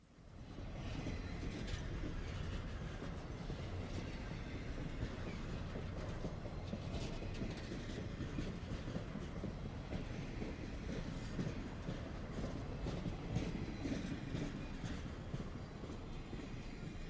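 A Norfolk Southern freight train rolls past in a steady, continuous rumble of wheels and cars, loud and unbroken throughout.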